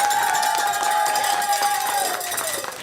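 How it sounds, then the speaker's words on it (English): Students at a Waco ISD classroom surprise for their teacher, cheering and clapping as a dense, steady crowd roar with shrill voices and whistling tones over scattered claps, loud throughout and fading slightly at the end. "So give her a big round of applause"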